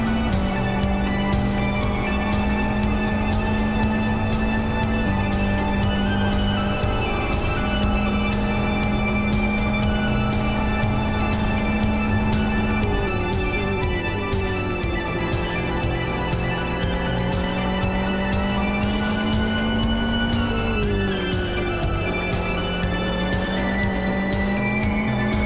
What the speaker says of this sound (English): go for a lap on board with Sami Litmanen and let you enjoy the sound of the XR GTR in Lip for Speed